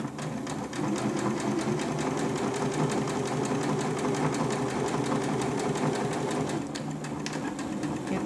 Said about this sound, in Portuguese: eu abaixo a agulha, viro, ó, virei e vou continuar costurando